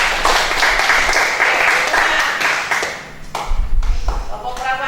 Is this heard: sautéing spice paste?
no